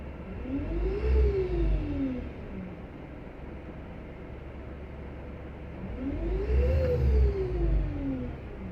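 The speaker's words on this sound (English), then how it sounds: "Let's give it a few revs." The engine of a 2022 Alexander Dennis Enviro 200 single-decker bus revs twice, each a rising then falling whine over a steady low idle rumble, recorded close with no voices.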